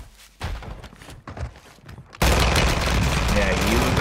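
Bursts of gunfire from paired FTAC Siege weapons in a video game on the Vondel map, scattered shots and thumps at first, then a dense, loud continuous barrage, with voices talking.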